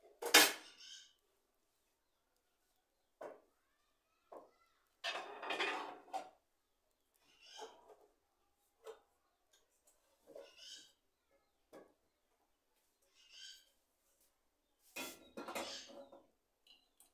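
Metal cooking pots and pans handled in a home kitchen while preparing lunch, with scattered clanks and clinks in separate short bursts, some louder than others, separated by quiet pauses.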